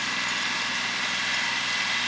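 A two-wheel-drive tractor engine idles steadily nearby, a constant broadband rumble with even loudness and no voices over it.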